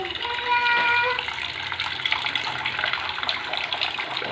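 Water poured into a cooking pot of squash with garlic, onion and pork, a steady splashing gush loudest in the first second, then a continuous running-water hiss with a voice speaking over it.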